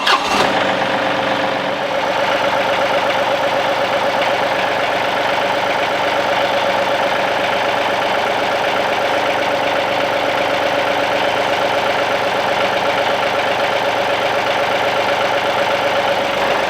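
Tractor engine fitted with a third-function hydraulic diverter kit cranking and catching, then idling steadily at a loud, close, even rumble for the rest of the stretch, with no voices.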